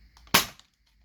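An XShot single-shot toy blaster fires once with a sharp, loud, close crack that fades quickly into near silence.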